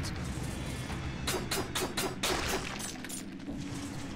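Eggs burst in a rapid cluster of popping blasts in the roguelite video game Dead Cells, crackling over steady game background sound with no voices.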